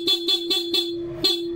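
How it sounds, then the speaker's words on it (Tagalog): Stock horn of a Honda ADV160 scooter tooted in five short, evenly spaced beeps, close and fairly loud, with the last one held slightly longer. "so stock horn lang"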